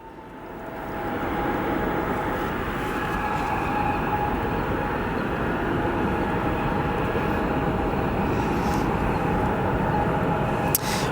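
A Lufthansa Airbus A340 arriving at O'Hare Airport, its jet roar rising quickly and holding as a loud, steady broadband rush with a faint whine, heard alone with no talk.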